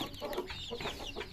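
Young chickens clucking and peeping close by in a steady, busy stream of soft calls, with no voices over them.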